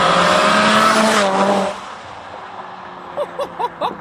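A loud tuned 740-horsepower Mazda RX-7 roars past close by, its engine note sliding down and fading quickly, followed by a few short, sharp chirps in the quiet afterward.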